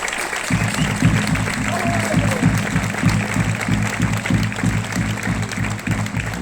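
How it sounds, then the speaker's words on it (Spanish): An outdoor folk festival audience in Huesca claps loudly and continuously, with a steady rhythmic low thumping underneath and some voices mixed into the applause. "como es el señor Joaquín Díaz, para el que pido un fuertísimo aplauso."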